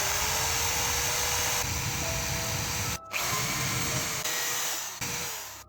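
A power drill bores holes into a piece of wood, running as a loud steady whine with a brief cutout near the middle and the pitch shifting under load.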